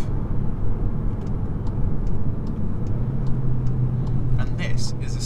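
A SEAT Leon Cupra engine, in sport mode with traction control off, drones and rises in a steady low rumble, close and loud, with faint clicks and a brief voice near the end.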